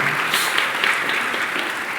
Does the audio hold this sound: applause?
yes